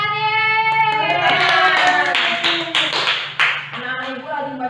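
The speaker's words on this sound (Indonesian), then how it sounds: "Tepuk tangan yeay." Children in a primary school classroom in Pekanbaru, Riau, clap their hands in quick, uneven bursts while voices chant and sing along loudly over the claps.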